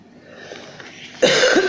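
A single harsh cough bursts out close to the microphone after a moment of quiet breathy noise.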